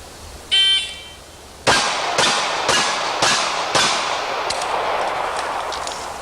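A shot timer gives a short electronic beep, then about five sharp pistol shots ring out in quick succession from a semi-ready position on a range, loud and close, each trailing a brief echo.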